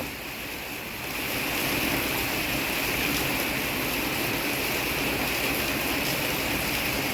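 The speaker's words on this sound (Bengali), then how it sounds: "বৃষ্টি তো নেমে গেল" Light monsoon rain falls around a family rooftop, making a steady, soft broadband wash of sound that swells slightly after the first second and continues evenly, with no voices.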